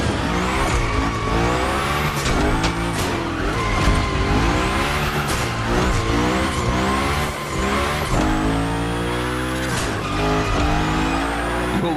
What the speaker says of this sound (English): we're gonna rough up the Hoonigan a bit. We're focusing on Gymkhana essentials, big slides and precision